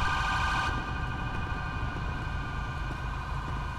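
A police siren in the GTA V LSPDFR mod holds a steady electronic wail over a loud, rumbling car engine, with a brighter tone cutting off early.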